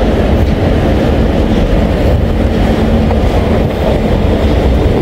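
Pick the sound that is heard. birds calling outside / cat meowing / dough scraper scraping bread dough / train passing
train passing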